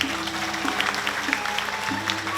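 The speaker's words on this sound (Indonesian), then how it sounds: "Tepuk tangan." Audience clapping during a Balinese drama gong stage performance, a moderate patter of hands running through the whole moment, with a sustained musical tone and some voices underneath.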